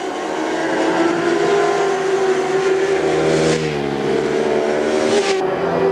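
A British Superbikes superbike rolling into pit lane in a 2000 race, its engine a loud, steady close drone with pitch sweeping down and up as it slows, no voices over it.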